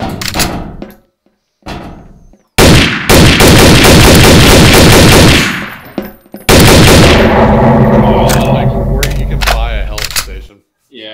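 Bursts of video game gunfire ring out loud and close: rapid automatic volleys in two long stretches separated by brief pauses, with a few isolated shots, while players talk.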